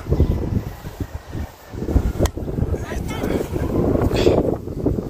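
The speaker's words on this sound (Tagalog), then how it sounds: "Sobrang sarap ng hangin dito." Wind blowing outdoors in Alberta, a steady rushing noise with low rumbling gusts that swell and ease, audible under occasional talk.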